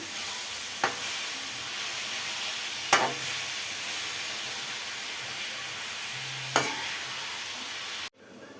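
Tomatoes and ginger paste frying in oil for a boti curry, a steady close sizzle and hiss with a few brief stirring clinks, no one talking.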